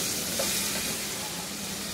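Chopped tomato with a little salt fries in a pan, a brief steady hissing sizzle with faint crackle, close and fairly loud, with no speech.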